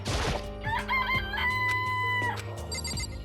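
A rooster crows with a long drawn-out call, with clucking chicken sounds around it, in the video game Danganronpa: Trigger Happy Havoc, loud and clear with no voices.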